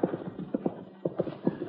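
Radio-drama sound effect of a loose, unhobbled horse approaching, its hooves making a steady clip-clop rhythm of paired beats, close and clear, with no voices over it.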